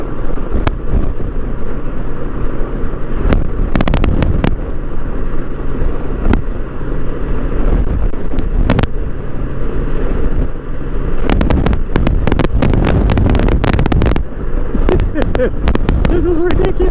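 Strong gusting wind roars and buffets the microphone of a rider on a Honda Goldwing trike, loud and continuous with sharp bursts, a speaking voice and engine rumble underneath.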